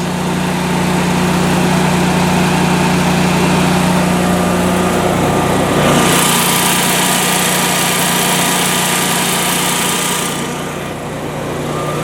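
A Generac standby generator's engine drones loudly and continuously nearby, with a constant hum; partway through, a brighter hiss joins briefly before easing off.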